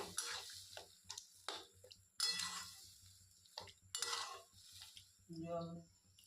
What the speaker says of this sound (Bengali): ভালো করে এবার খুন্তি দিয়ে নাড়াচাড়া করে আমরা তরকার সাথে মশলাটা মাখিয়ে নেব।